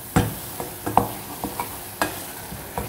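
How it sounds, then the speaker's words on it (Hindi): Tandoori masala being stirred into a pan of frying food, a quiet ongoing sizzle broken by about eight separate scrape and tap strokes of a spoon at an uneven pace; no speech. "अब इसको अच्छी तरह से मिक्स करेंगे जी।"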